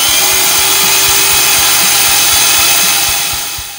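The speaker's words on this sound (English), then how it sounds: "When looking for bigger motors, I found this beauty, which runs at 12 volts at 410 watts" A 12-volt, 410-watt electric motor for a combat robot runs loudly and continuously with a dense, high whine and steady hum, close up and alone, fading slightly at the end.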